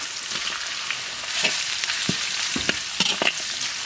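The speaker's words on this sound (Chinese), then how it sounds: "锅里少来一点猪油，下入葱姜蒜末干辣椒，炒香下入腌猪肉" Cured pork stir-fried in lard with scallion, ginger, garlic and dried chili sizzles steadily in a wok, with close scraping and clinking stirs breaking through the hiss.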